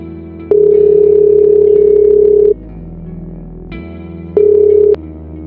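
Loud steady telephone ringback tones, two long beeps separated by a pause with a low hum underneath, close and clear.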